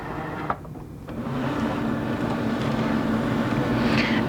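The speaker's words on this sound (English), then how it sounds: "that'll help keep it in place as the machine draws it in" A Cricut cutting machine draws a cutting mat in with a steady low motor whir that begins softly and grows slightly louder, with a couple of small clicks near the start.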